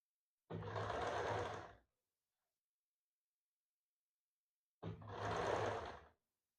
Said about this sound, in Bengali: হালকা হাতে এখানে আপনারা সেলাই করে নেবেন